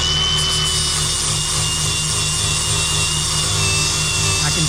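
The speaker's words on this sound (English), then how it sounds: "I can feel it in my grinder too." An angle grinder cuts into a fiberglass pool shell while a return fitting is installed, giving a steady, loud abrasive whine with a low motor hum that runs unbroken throughout.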